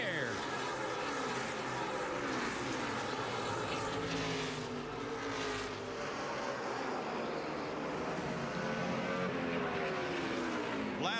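Kyle Busch's NASCAR Cup Series stock car runs its final lap, with engines roaring and sweeping past, pitch rising and falling, under continuous excited race commentary and crowd noise.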